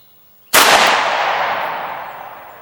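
A single loud, sharp 6.5mm Grendel rifle shot at an outdoor range, a sudden crack followed by a long decaying boom that fades over about two seconds in otherwise quiet surroundings.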